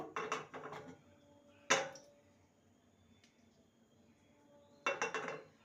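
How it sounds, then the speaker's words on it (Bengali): A frying pan being heated for a palm cake recipe clinks and scrapes against metal while refined oil is spread, in three short bursts separated by quiet gaps, close and fairly soft. "ভালো করে তেলটাকে চারিদিকে স্প্রেড করে দেব"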